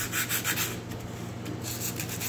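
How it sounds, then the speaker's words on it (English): Hand-scuffing a Honda ATC90 part with 150-grit sandpaper: steady, close, rhythmic rubbing strokes with a gritty scratchy texture, heard alone. "I've got some 150 and I've got to scuff this"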